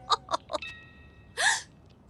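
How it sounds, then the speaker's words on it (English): A cartoon character hiccups: three quick, close, sharp hiccups in a row, then a louder, longer vocal burst after a short pause. "My hiccups have gone."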